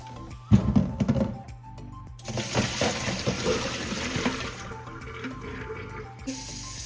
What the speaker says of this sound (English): I'm going to pour that off.